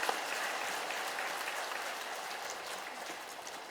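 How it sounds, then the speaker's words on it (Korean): A church retreat audience applauds a priest's lecture with steady, dense clapping that holds at an even level throughout. "신부님께 다시 한번 감사의 박수 드리겠습니다"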